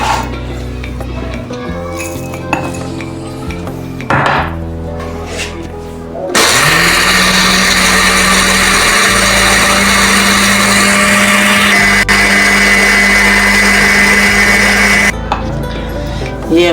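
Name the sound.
electric mixer grinder grinding cinnamon and cumin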